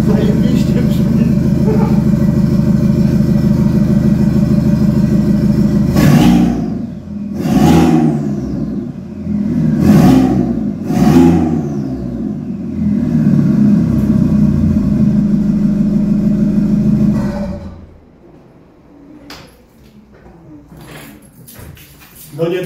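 An Audi A4 B6 with a freshly repaired exhaust system revs repeatedly, loud rising and falling engine surges over a steady idle before settling quieter, with people talking nearby.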